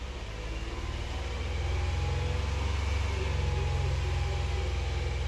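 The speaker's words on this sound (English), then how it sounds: "So let's rev it up to 2000 RPM." A 2022 Hyundai Palisade engine rises from idle to a steady 2000 RPM, producing a low, continuous drone that swells slightly over the first two seconds and then holds even and close, with no talking.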